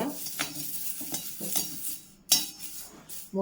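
Curry leaves fry in a pan with a few drops of oil for a South Indian kulambu masala powder, giving close, irregular crackles and scrapes with occasional sharp clinks of a utensil against the pan.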